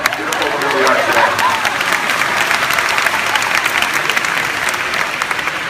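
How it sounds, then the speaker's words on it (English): A crowd applauds loudly and steadily at a high school graduation, dense clapping filling the whole stretch without letting up. "I think we should give a round of applause to puberty"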